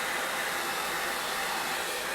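A hair dryer blows continuously at steady volume, drying craft paste, a constant airy whoosh with no pauses or voices.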